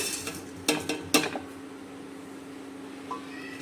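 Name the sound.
dry roasting sambar spices in a pan on low flame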